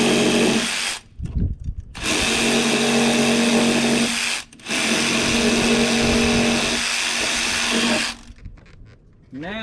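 A sawzall reciprocating saw cuts through wood along a cut line, running loud and close in three long buzzing bursts separated by brief pauses, with a final shorter burst trailing off.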